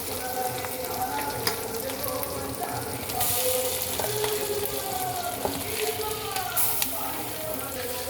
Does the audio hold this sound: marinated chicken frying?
yes